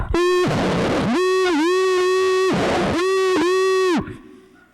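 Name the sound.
voice imitating garbled drive-thru speaker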